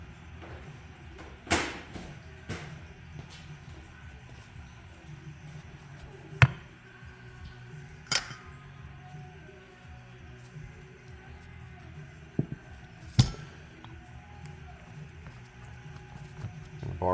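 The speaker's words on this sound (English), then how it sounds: "let me just grab a mallet to give that a tap" A mallet taps a grease-packed spindle out of its housing on a John Deere 757 Ztrak mower deck: several sharp, separate knocks spaced irregularly over a quiet workshop background.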